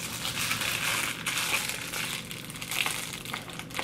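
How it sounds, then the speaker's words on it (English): A package being unboxed, with close, loud crinkling and crushing of packaging material in irregular bursts and rustles throughout, and no talking. "So of course I'm going to unbox it because we love a good unboxing."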